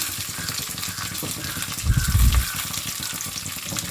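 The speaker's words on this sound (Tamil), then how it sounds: "இப்போ இது எல்லாத்தையுமே ஒரு மீடியம் ஃப்ளேமில் வச்சு நல்லா வதக்கிக்கலாம்" Onion and garlic sauté in a pan over a medium flame, giving a steady close sizzle and crackle that swells into a louder, fuller burst midway, as if stirred, then settles back to an even fry.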